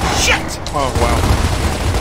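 Lancer assault rifle fire in Gears of War during a co-op firefight, a dense continuous clatter of shots with game effects and a brief voice layered over it.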